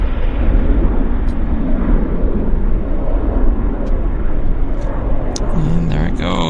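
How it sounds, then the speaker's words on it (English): An airplane takes off at Vancouver airport, a loud, steady, broadband jet roar that holds throughout, with a few faint voices near the end. "Oh, there's a takeoff."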